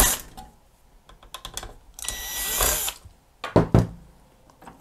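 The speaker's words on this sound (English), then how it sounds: "So just go ahead and remove these two screws." Two screws being backed out of the cover of a Yamaha CDC-697 CD changer with a small driver, close whirring bursts mixed with light clicks and taps.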